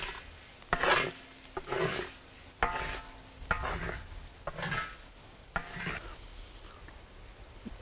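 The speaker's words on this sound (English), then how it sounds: "he's dancing on the rice, or jigging the rice, trying to loosen the chaff off the rice itself" Wild rice being jigged underfoot to loosen the chaff: rhythmic rustling, scraping steps about once a second, dry and grainy, at moderate level with no talking.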